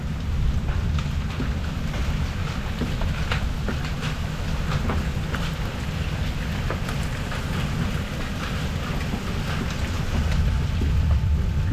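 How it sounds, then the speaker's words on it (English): Chickpea-size hail falls in a steady, dense roar of pattering and clattering impacts, close and loud throughout with no voices. "Chickpea size hail right now."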